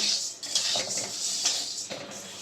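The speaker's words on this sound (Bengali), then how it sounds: "যেইভাবে মুগ ডাল ভাজা হয় ওইভাবে খালি কড়াইতে ভেজে নেব" Pigeon pea lentils are dry roasted in a hot empty wok, giving a continuous bright rattling and scraping hiss with a few louder stirring knocks against the metal.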